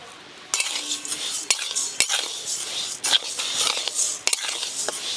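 A utensil scrapes and clinks against a pan, stirring masoor and moong dal, in repeated strokes, sharp metallic taps punctuating a soft rustling, close by.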